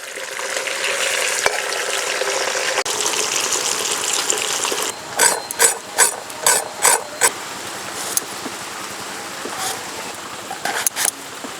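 Tilapia pieces coated in salt and turmeric fry in smoking oil, making a constant loud sizzle. In the second half a series of rhythmic clicking and scraping knocks breaks through it.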